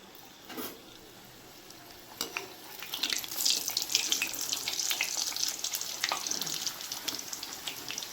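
Luchi dropped into hot oil in a wok crackle and sizzle, the bubbling frying noise building after a few seconds and holding steady, faint and close with no talk.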